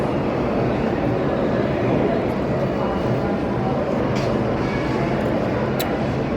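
Steady low rumble of a subway station while waiting for the F train, with the drone of trains and machinery and a few faint clinks over constant background noise.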